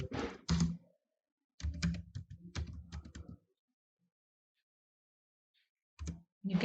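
Typing on a computer keyboard comes in short bursts of close, clacking keystrokes separated by silent pauses.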